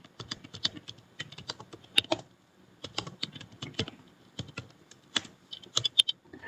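Fingers type Python code on a computer keyboard, close irregular bursts of clicky keystrokes separated by short pauses, with no talking.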